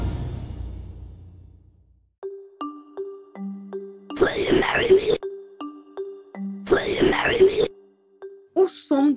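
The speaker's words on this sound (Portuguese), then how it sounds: "mas é como soaria a voz de um macaco pedindo uma pessoa em casamento em inglês" A strange synthetic, warbling computer-simulated monkey voice speaks English phrases between electronic tones and chimes, sounding eerie and artificial rather than human.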